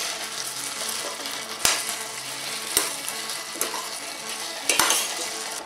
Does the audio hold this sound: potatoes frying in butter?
yes